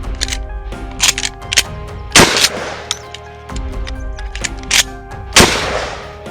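Shotgun blasts from a Mossberg 500 or KelTec KSG fired outdoors ring out loud and close, several sharp reports spaced a few seconds apart with clanks of handling between them.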